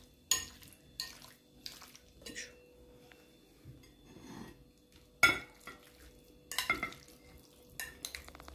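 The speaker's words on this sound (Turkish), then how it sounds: "Böyle güzelce karıştırıyoruz" Russian salad being stirred in a bowl, with repeated soft scraping and clinking strokes of a spoon against the bowl, close and intermittent with quiet gaps between strokes.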